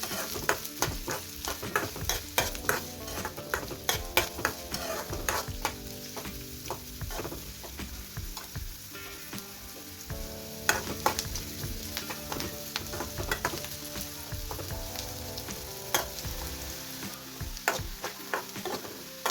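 Onions frying in a pan, a loud constant sizzle under frequent sharp scraping and tapping strokes of a spatula, heard close with no voices.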